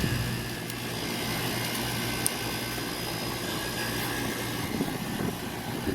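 Blower motor of a Carrier HVAC package unit running, a steady dense whooshing hum with a low droning tone, close and constant throughout.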